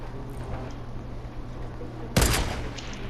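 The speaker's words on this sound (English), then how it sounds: "No, that's me sniping." Sniper rifle shot in Fortnite squads gameplay, a single sharp crack near the end over a low, steady background hum.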